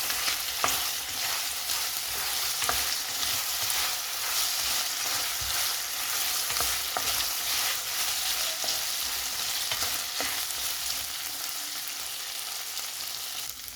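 Beef mixture with oyster sauce being stirred in a hot pan, a steady sizzle and frying crackle running throughout with scraping stir strokes, close and continuous, no talking.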